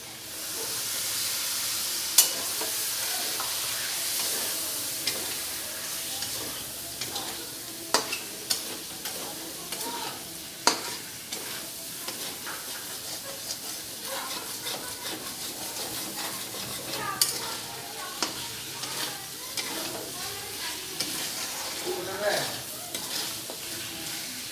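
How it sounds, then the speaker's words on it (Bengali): Spices for chicken curry frying in a pan after a splash of water, a loud continuous hiss and sizzle broken by frequent scraping clacks of a spatula stirring. "মশলাটা ভালো করে ভাজার জন্য"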